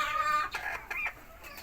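A desi rooster among backyard hens on a balcony gives a few close, clucking calls that rise and fall in short bursts, alone without talk.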